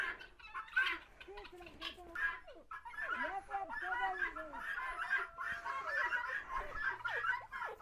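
Chickens cluck and chatter in a lively, overlapping flock, close by, with soft background noise and occasional louder calls.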